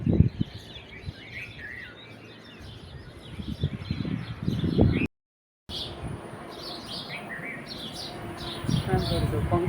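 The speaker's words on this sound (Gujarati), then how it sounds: "સાંભળજો પંખીડાનો અવાજ." Birds chirp and tweet in a village at morning, with quick bright calls repeating throughout, some near and some farther off, over soft background voices and a brief gap of silence.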